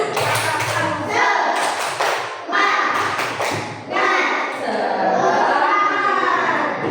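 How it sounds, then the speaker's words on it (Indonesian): Schoolchildren in a second-grade classroom do rhythmic Tepuk Semangat clapping, a loud burst of claps and thumps over about seven seconds, with children's voices mixed in. "Tepuk semangat"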